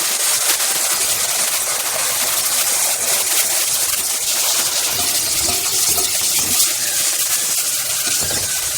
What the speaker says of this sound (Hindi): लहसुन जो कि जिसमें हमने पानी मिक्स किया हुआ है वो ऐड कर देंगे।